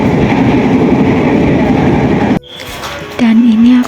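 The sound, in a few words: inside a moving passenger train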